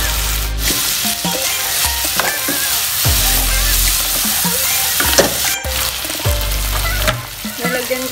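Pork seasoned with salt and pepper sautéing in a pan for binagoongan with coconut milk: loud, steady sizzling and frying close up, broken by scraping stirs and clattering utensil knocks, no talking.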